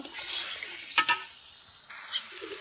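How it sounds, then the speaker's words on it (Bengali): Fish pieces sauté in a hot pan, making a brief close sizzle with a couple of quick scrapes of a spatula. "একটু কষাবো, কষাই তারপরে তুলে রেখে দিব।"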